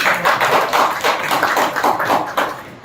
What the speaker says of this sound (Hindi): आप सबों से आग्रह करते हैं कि जोरदार ताली के साथ